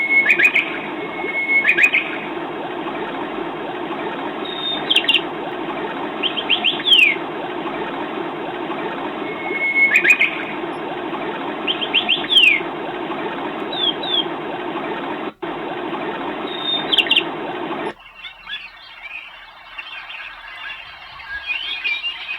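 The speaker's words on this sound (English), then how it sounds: "Underwater with birds in the jungle." Looping jungle bird calls, repeated chirps and whistles over a steady rushing water bed from an LBell ocean wave projector night light sound machine, ending abruptly into quieter ambience.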